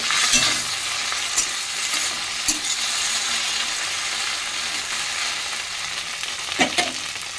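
Fish oil cooking with chopped onion and chilli in a pan, a loud continuous sizzle with intermittent scraping stirs of a utensil, close and steady, no speech.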